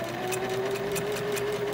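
A sewing machine stitches a seam on a 9-patch pillow front, a steady close mechanical whir with a faint rhythmic ticking of the needle running throughout.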